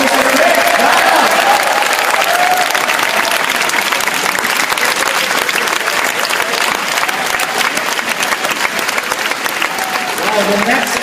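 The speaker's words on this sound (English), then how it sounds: "And a warm round of applause for Mr." An audience applauds for the speaker Krish Dhanam, loud, dense and sustained clapping from a crowd throughout, fading slightly toward the end.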